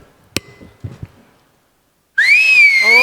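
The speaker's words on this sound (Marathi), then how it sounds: "फक्त शिट्टी मारून" Several sharp knocks come first, then a pause of silence, then one loud, bending human whistle rings out as applause on a comedy show stage and holds for about a second, with no talking.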